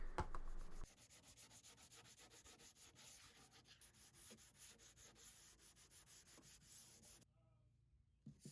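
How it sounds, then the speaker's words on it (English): A wooden dresser gets a quick hand scuff sanding, a rhythmic rasping rub repeated in fast even strokes, close but fairly quiet, ending in a brief pause. "I give the rest of the dresser a quick scuff sand. I'm just roughening up the surface so the paint and primer adheres better."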